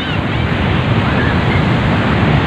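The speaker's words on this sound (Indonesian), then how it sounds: "Tinggi banget ombaknya guys." High ocean waves at Karapyak beach in Pangandaran, West Java, make a loud, continuous roar of surf mixed with gusty wind buffeting the microphone, with no break throughout.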